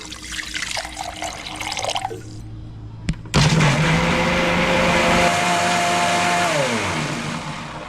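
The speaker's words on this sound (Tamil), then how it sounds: "தண்ணி சேர்த்துக்கலாம்" Water pours for a couple of seconds, then after a click a blender whirs loudly and winds down.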